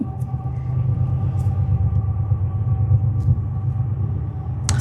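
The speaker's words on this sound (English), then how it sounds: "Y'all probably hear the train." Nearby passing train rumbling outside a home, a steady low droning roar with faint rattling that holds throughout, loud and continuous with no talk over it.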